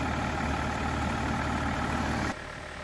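A 2002 BMW 530d E39 automatic diesel idles steadily with a constant low hum and a faint high whine, then drops abruptly quieter near the end as the engine is switched off.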